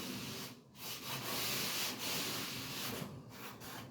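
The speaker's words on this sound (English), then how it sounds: "Use a sanding sponge if you've got a bad edge." Sanding sponge rubbed over the edge of orange peel drywall texture to blend it in, a faint close scratchy scrubbing in quick back-and-forth strokes with brief pauses.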